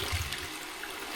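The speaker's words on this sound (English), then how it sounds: "We need to flush it first." An in-cistern toilet flushing with a blue toilet block fitted, a steady broadband rush of water that stays fairly even and close for the whole moment.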